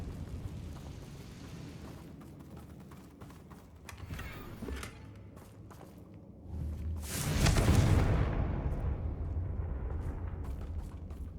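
A Confringo fire spell blast in Hogwarts Legacy, a quiet rumbling stretch and then a loud, broad whooshing explosion that swells and lingers as a roar, with no talk.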